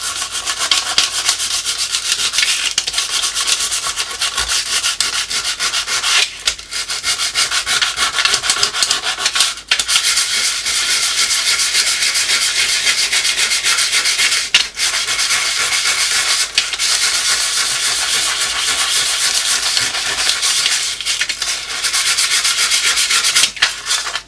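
Sandpaper rubs the paint off an old drinks can, a continuous loud scratchy rasp of repeated strokes with brief pauses, close up and alone.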